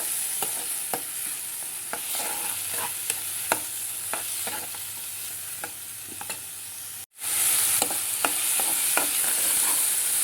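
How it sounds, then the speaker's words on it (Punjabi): Spice masala roasts and is stirred in oil in a pan for stuffed bitter gourd, giving a steady close sizzle with repeated spoon scrapes and clicks, cut by a brief silence near the end before it resumes. "ਬਾਕੀ ਹੁਣ ਆਪਾਂ ਮਸਾਲਾ ਭੁੰਨ ਲਾਂਗੇ ਇਹਨੂੰ ਮਸਾਲੇ ਨੂੰ ਜਿੱਦਾਂ ਆਪਾਂ ਸਬਜ਼ੀਆਂ ਦਾ ਮਸਾਲਾ ਭੁੰਨਦੇ ਆ ਨਾ ਉਹਦਾ ਭੁੰਨ ਲਾਂਗੇ ਚੰਗੀ ਤਰ੍ਹਾਂ"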